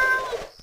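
A pet cat in the Cube World video game gives one short, clear meow up close that fades out quickly.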